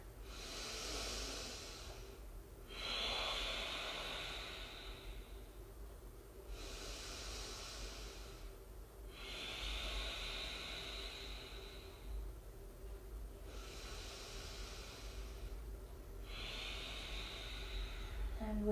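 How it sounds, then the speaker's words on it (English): Slow, deep breaths during a yoga workout in child's pose, three long hissing inhale-exhale cycles spaced several seconds apart, close and fairly quiet, with no talk over them. "Let's take 3 deep breaths together."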